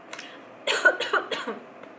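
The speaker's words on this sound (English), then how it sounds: "Oh, see, coughing and sneezing" A quick series of three or four dry coughs up close after a brief quiet moment.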